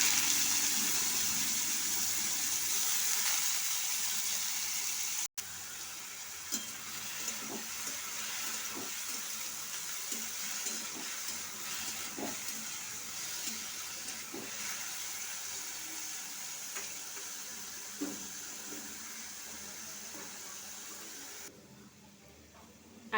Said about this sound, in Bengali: আমি দিয়ে দিলাম কালো জিরে ফোড়ন, আর দিয়ে দিলাম কোচানো লঙ্কা। দিয়ে আমি আলুগুলো দিয়ে দিই।